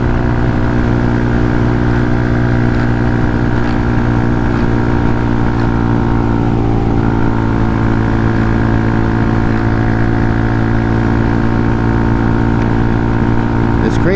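A Honda Hawk 250 motorcycle held at wide open throttle in fifth gear around 63 mph, giving a loud, steady engine drone with unbroken harmonics and constant wind roar throughout.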